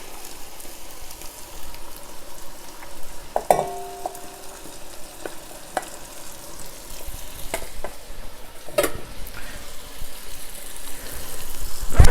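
Tomatoes going into a pan of sizzling meat for bolognese sauce, with a steady crackling fry throughout and a few sharp clinks and splashes as they are added.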